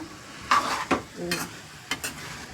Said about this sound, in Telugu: చూస్తున్నారా దొండకాయ ఎలా కలుపుతున్నానో చూస్తున్నారా?